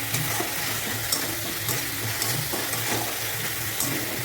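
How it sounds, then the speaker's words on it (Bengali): Spice paste of ginger and green chilli paste frying in a pan with onion, a continuous sizzle with soft scraping as it is stirred, close and alone without talk. "দিয়ে ভালো করে মশলাটা কষে নিতে হবে।"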